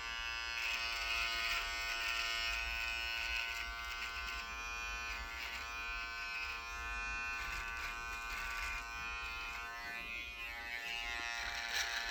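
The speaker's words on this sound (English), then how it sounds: "just use the edge of the clipper and just pick that out" An electric hair clipper trims a beard, its steady high motor buzz droning close and continuously throughout with slight shifts in tone as the blade edge works through the hair.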